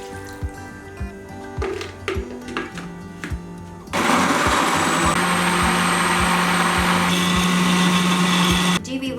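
A kitchen blender grinds a cooled green chilli sauce mixture, its loud steady motor whir starting abruptly partway through and running continuously before cutting off, after a stretch of lighter rhythmic handling sounds.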